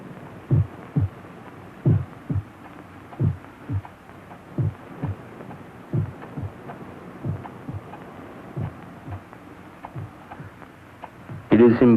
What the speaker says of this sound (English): For many minutes, the heart beat on with a muffled sound.